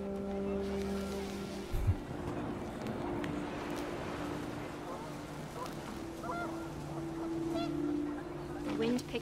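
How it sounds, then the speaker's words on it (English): Panicked geese honk in the video game What Remains of Edith Finch, with a few honks heard over a steady low droning background amid windy ambience. "The wind picked up, and panicked geese appeared and quickly went."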